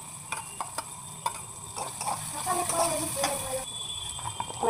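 Two medium chopped onions go into a pan with ginger-garlic paste, giving a quiet sizzle that swells midway, preceded by several sharp taps and clinks of a utensil on the pan.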